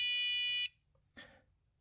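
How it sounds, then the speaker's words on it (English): A mug temperature monitor's alarm sounds a loud, piercing electronic beep-tone that cuts off abruptly, followed by a short quiet gap and a brief soft rustle or click. "So this is the first alarm that's going to go off."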